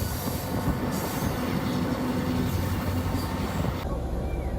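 A passenger train in Yugoslavia rolls into a station, with a steady loud rumble of wheels and carriage noise and a faint squeal of wheels. The noise stays even throughout, then eases slightly near the end.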